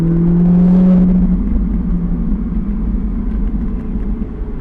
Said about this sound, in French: Chercher à réélargir pour relancer ici et pouvoir réaccélérer assez tôt.